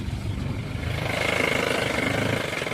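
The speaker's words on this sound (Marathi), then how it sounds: "गाडी सध्या रिवर्स घेत झाली." A car used for hauling plant seedlings reverses with its engine running close by, a steady mid-pitched idle rumble holding even throughout.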